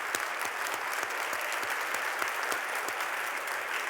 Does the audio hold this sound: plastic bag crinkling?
no